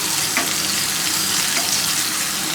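Garlic and dried red chillies crackle in hot oil as tempering for a Malabar spinach dal, giving a steady, close, dense sizzle with no pauses and no talk.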